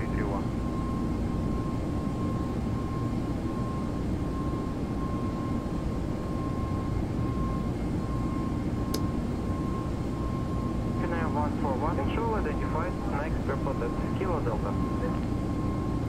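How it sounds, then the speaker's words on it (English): In the X-Plane 11 flight simulator, a Toliss A321 airliner's engines keep up a steady, broad whine with a low rumble. A faint single click and some chirpy tones come in near the end, and there is no talk. "It's a Toliss A321."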